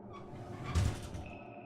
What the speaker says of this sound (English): That was the wrong door.